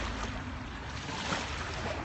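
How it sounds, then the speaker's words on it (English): A river flowing through an evening landscape at sunset, a steady broadband rush of water holding an even level throughout with no voices. "let you listen to this gorgeous river"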